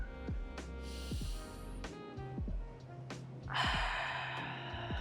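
Deep breathing during a hypopressive abdominal exercise: a sharp inhaled gasp and snorting breaths close by, followed by a longer forceful exhale, with a faint musical tone underneath.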